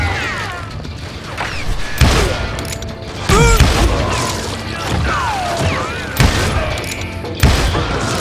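Loud gunshots ring out in Call of Juarez: Gunslinger, about four heavy bursts spaced a second or two apart, over whooshing, clattering game effects and short shouted voice fragments.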